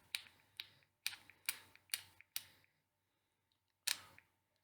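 A bottle of 24-hour foundation with a pump top gets pressed repeatedly, giving a run of about six sharp plasticky clicks in an uneven rhythm, then a short pause and one final click, close and quiet.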